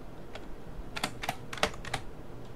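Keys clack on a computer keyboard in a Linux software manager, several short bursts of typing in quick succession, close and clear with no voices.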